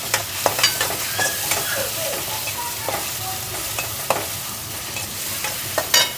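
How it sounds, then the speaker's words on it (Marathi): Onion and tomatoes sautéing in a pan for a baingan bharta, a dense close sizzle with repeated sharp clinks and scrapes of a stirring spoon and no voices. "लगेच टमाटे. हे आता 2-3 मिनटं छान परतवून घेते."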